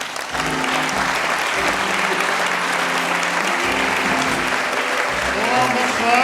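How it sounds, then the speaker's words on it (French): An audience at a twentieth-anniversary gala applauds to welcome the president on stage, continuous loud clapping with a crowd murmur and voices underneath. "Sous vos applaudissements."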